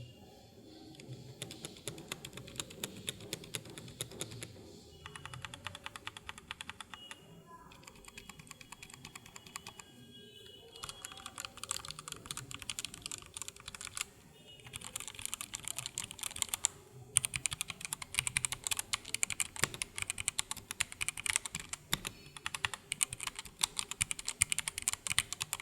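Typing on a Redragon K586 Brahma mechanical keyboard: rapid, steady clacking keystrokes in close bursts with short pauses, fairly quiet and uninterrupted by speech.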